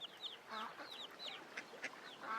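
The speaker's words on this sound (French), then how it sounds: "Maintenant, courbez le cou et faites coin-coin." Faint duck calls come in quick, short bursts of soft quacks and higher chirps, spaced across a couple of seconds in a quiet setting.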